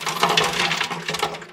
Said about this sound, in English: I'm going to use nuts and bolts